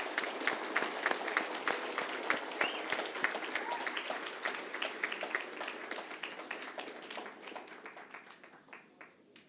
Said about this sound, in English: a final round of applause, please, to our class of 2020.